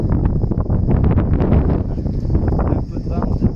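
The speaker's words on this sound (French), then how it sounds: "un peu de vent" Strong outdoor wind buffets the microphone on a farm, a loud, continuous rumbling roar with gusty swells lasting the whole stretch, with no clear voice over it.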